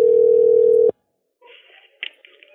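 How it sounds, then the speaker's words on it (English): Telephone line tone heard while calling someone back: a loud steady beep that cuts off abruptly, then silence and faint, muffled line noise and clicks. "I'm going to call her back"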